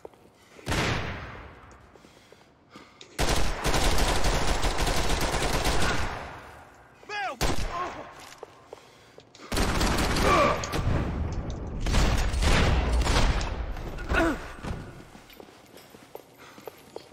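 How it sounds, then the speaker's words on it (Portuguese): Gunfire in the Max Payne 3 video game comes in loud, dense bursts separated by short quiet gaps, with sharp repeated reports and rattling mechanical clatter, heard without speech. "Que tiro foi esse?"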